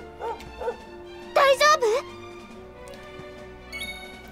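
A dog in Dragon Quest XI gives a few short yips and a louder run of barking whimpers near the middle, over steady game music.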